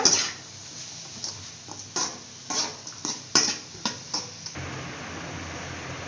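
A spoon scrapes and clinks in a pan as chicken is mixed for chicken rice, a series of separate, fairly close metallic knocks and scrapes over a faint background hiss that fades out toward the end.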